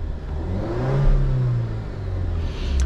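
The engine of a 2024 Alfa Romeo Giulia TI RWD is revved once from inside the car. The loud, smooth rise swells to a peak and falls back, then starts climbing again.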